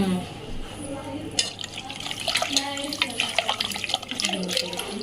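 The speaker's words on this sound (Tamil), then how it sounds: "தேவையான அளவு இப்போ தண்ணி ஆட் பண்ணிக்கலாம்" Water pours from a tap into a cooking pot of meat curry for biryani in a home kitchen, a steady splashing stream close by, with people talking over it.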